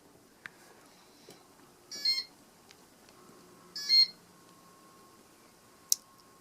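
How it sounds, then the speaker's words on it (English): Two bursts of electronic beeping from a circa-1989 Homestead Geneva Homestar ceiling fan in demo mode sound about two seconds apart in a quiet room, with a few faint clicks and a sharp chirp at the end. "The beeps definitely sound really cool on this."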